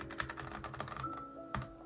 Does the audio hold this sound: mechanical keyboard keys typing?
yes